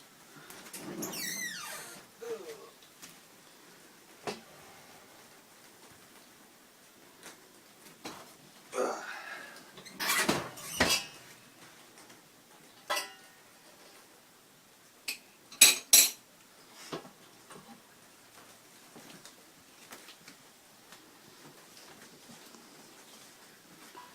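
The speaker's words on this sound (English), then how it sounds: "I'm just going to take the grains out of the oven and give them just a stir up" Warm brewing grains taken out of the oven and stirred: scattered clinks and scrapes of a spoon against a pot, with long quiet gaps between short bursts, faint and close.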